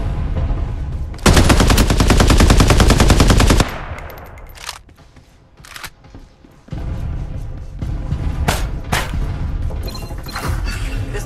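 Sustained loud automatic gunfire in the shooter game Farlight 84, a dense rapid burst lasting a couple of seconds, then a lull and renewed scattered shots and impacts with game sounds.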